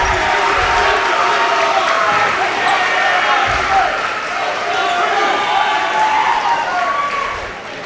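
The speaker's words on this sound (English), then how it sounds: "That got the crowd's reaction." A crowd cheers and applauds loudly at a boys' high school basketball game in a gym after a made layup, with sneaker squeaks and bouncing balls mixed into the roar and an announcer talking over it.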